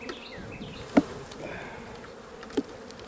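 Honeybees hum steadily and close during a spring hive inspection, a continuous insect drone with two sharp clicks or knocks breaking through it.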